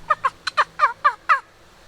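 A wingbone turkey call, used by turkey hunters, sounds seven quick, sharp yelping notes in an even rhythm, close and clear against a quiet outdoor background.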